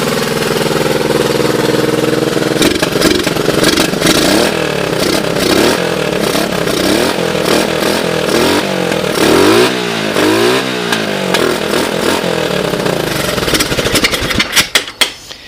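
A Honda ATC 185S three-wheeler engine runs steadily and loudly for most of the span, a rough, fast idle with some rising and falling revs midway before sputtering and cutting out at the end.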